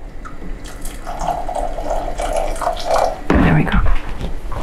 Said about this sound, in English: then we'll just add a little bit of water